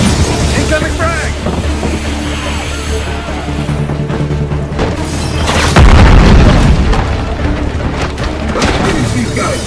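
A frag grenade blast in the Call of Duty: Black Ops 6 campaign: a loud, deep boom about two-thirds through, rising over a constant roar of battle noise and wind-like rumble.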